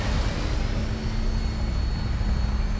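Aircraft engine in the video game Fallout 4 spooling up for takeoff, a steady, loud, dense roar with a constant low hum throughout, no voices.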